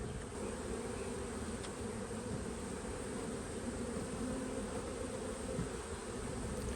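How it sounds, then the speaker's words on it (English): Honey bees from a week-nine package colony hum in a dense, steady drone inside an open hive, the buzzing close and continuous throughout with no voices. "it looks like we have at least 8 frames of bees"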